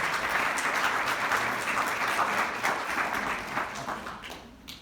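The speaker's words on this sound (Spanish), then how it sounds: "Pido un aplauso para el doctor Michel Gutiérrez" Loud, dense audience applause at a Spanish-language medical talk on neurodevelopment, sustained clapping from many hands that fades out near the end.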